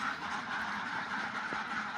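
Ducks on a duck farm quack in a dense, continuous chorus, with many birds calling at once at moderate distance.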